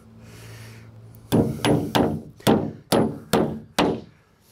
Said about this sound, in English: drive one of your nails.